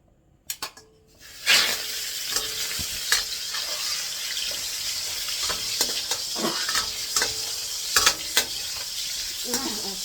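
Seasoned fried rice frying in a pan, a loud, continuous sizzle with repeated clinks and scrapes of a utensil stirring against the pan, following a few knocks at the start.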